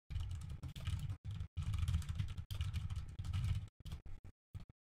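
Keys clatter on a computer keyboard in bursts of rapid typing with brief pauses, close and fairly loud, tapering off into short separate taps near the end.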